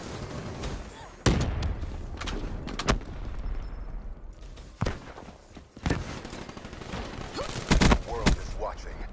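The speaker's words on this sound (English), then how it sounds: "Grenade, move!" Battle in Call of Duty Black Ops with grenades thrown: several loud, sharp blasts and gunshots scattered among rumbling combat noise, with a voice calling out between them.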